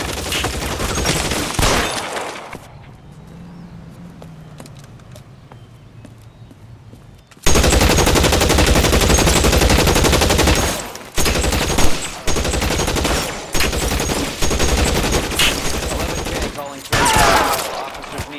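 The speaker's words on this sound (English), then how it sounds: "Shots fired at 1452 North Las Palmas." Gunfire in the video game L.A. Noire: loud, dense bursts of shots that cut off for a quieter stretch, then return as sustained volleys broken by short pauses.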